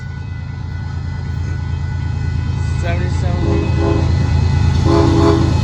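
CSX freight train with gravel and hopper cars rumbling steadily nearby at Dittmar Road in Austin, Texas, its horn sounding in several tonal blasts midway and toward the end while a person briefly speaks.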